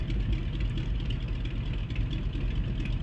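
A simulated de Havilland Beaver radial engine in X-Plane 11 warms up in snowy weather, giving a steady, loud, low rumbling drone that holds constant throughout.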